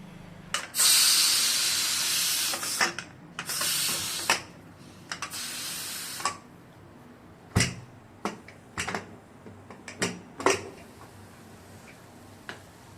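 A pressure cooker whistle vents loud hissing bursts of steam in several pulses on a stove, then gives way to scattered sharp ticks and clicks at moderate distance.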